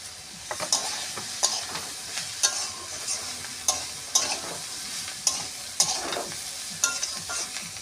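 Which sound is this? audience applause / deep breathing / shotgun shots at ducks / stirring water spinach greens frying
stirring water spinach greens frying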